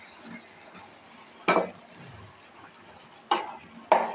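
Prawns cooked with gongura sorrel leaves are gently stirred in a pan, soft scraping under a low sizzle broken by three sharp clinks of a spoon against the pan.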